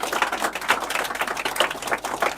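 A classroom of students claps hard for a student, a dense, steady patter of many hands that fills the whole stretch without a break.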